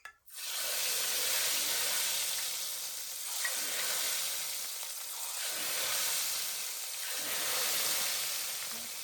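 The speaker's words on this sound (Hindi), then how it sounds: "हाफ़ के जी ऑयल में 10 से 12 अदद ड्राई चिलीज़ ऐड कर देनी है और हलीम को तड़का लगा देना है" Steady loud sizzling of hot oil with dry chillies added as a tempering for lamb haleem, a continuous crackling hiss with gentle swells in intensity, heard alone and close up.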